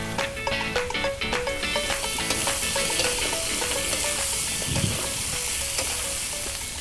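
Onion and garlic fry in a hot pan with a loud, steady sizzle, broken by light stirring clicks and scrapes across the whole stretch.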